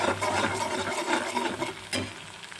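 Ginger, chili and garlic paste sizzles in hot oil in a pan, browning for a Kathiyawadi-style ganthiya curry, with steady frying crackle and a few spoon scrapes stirring it, close and continuous with no talk.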